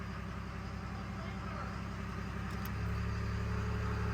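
A Cummins diesel engine with a VP44 injection pump runs with a steady, low, rumbling idle that deepens and grows slightly louder partway through, with a voice faintly present.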